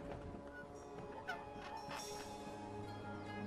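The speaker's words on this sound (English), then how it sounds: "About that talking bird that's bothering you." Squawking and honking calls of a talking bird in the video game Dreamfall Chapters, a few harsh fowl-like cries over a low background drone.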